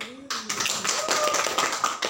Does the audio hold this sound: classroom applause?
yes